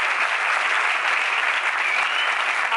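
Dense, continuous clapping from a crowd rewarding someone, sustained and loud from start to finish with no voices standing out.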